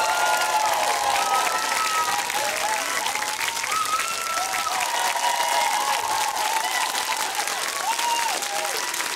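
A concert audience gives a songwriter a big round of applause, a dense, loud, continuous wash of clapping with some cheering, while a voice speaks over it.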